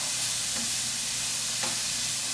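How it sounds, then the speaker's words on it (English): Onions and peppers cook in a pan for baked beans, giving a steady, dense sizzle with a couple of faint stirring scrapes. "We're going to cook and stir this for just a minute or two,"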